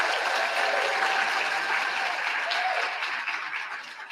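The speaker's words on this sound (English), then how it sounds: "374 students. Give yourself a round of applause." Graduating students and their audience at a fall convocation and white coat pinning ceremony give a loud, sustained round of applause, dense and continuous before tapering slightly toward the end.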